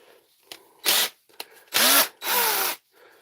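A power drill that does not run quite right whirs in three short bursts of rising and falling pitch, loud and close, separated by brief pauses and faint clicks.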